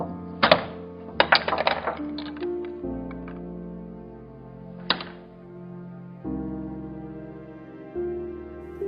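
A LEGO Minecraft TNT push function on a Desert Outpost set being pressed, giving a few sharp plastic clicks and clacks in quick bursts, then one more snap after a short pause, close and distinct against a quiet background.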